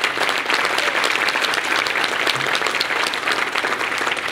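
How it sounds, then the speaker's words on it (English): Audience applause for the mayor at an Upstate Latino summit, a dense, sustained round of many hands clapping at steady volume throughout. "Let's give the mayor a round of applause."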